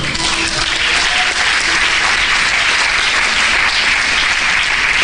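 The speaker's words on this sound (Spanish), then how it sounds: "Den un aplauso al Señor." Sustained applause from a church congregation during a sermon, dense and steady throughout, with no voices rising above it.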